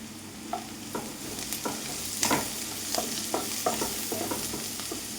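Sliced onions sauté in a hot pan for a coconut egg curry, sizzling steadily while a spatula scrapes and taps in irregular strokes, close and fairly loud.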